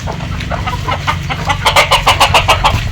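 A run of quick, loud clucks from free-range country hens close by, repeating in a rapid burst over a low rumbling background hum on a small poultry farm.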